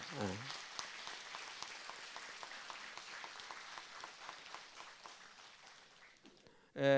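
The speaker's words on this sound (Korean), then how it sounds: "우리 마라난타사를 위해서도 박수 한번 부탁합니다" Temple ceremony audience at a Buddhist dharma gathering claps for Marananta Temple, a soft, distant patter of steady applause filling the room, fading near the end before a short loud burst cuts in.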